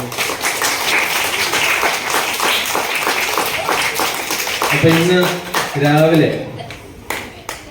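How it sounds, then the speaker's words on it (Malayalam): Schoolchildren clap for their teachers at a school opening-day celebration, a dense crowd applause that fills the first few seconds and then gives way to an adult voice talking. "ഇത്ര നല്ല ടീച്ചേഴ്സിനെ നമുക്ക് കിട്ടിയില്ലേ നല്ലൊരു കൈയടി കൂടെ കൊടുത്തേ"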